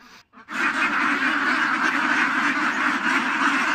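Loud, continuous chorus of farm ducks quacking close by, many birds calling over one another without pause after a brief quiet start.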